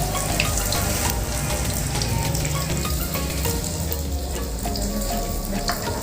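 Tofu frying in a pan makes a loud, dense, continuous sizzle with crackling spatters and some stirring noise, heard close and without speech.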